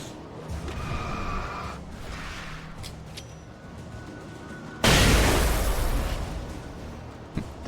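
A flashbang in Alan Wake goes off as a sudden, loud, bright burst of noise that hisses and rings on for a few seconds, after quieter game ambience with faint clicks.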